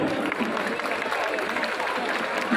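Crowd applause at a large outdoor political campaign rally in Thane for candidate Rajan Vichare: dense, steady clapping from many people, loud and continuous throughout with no pause.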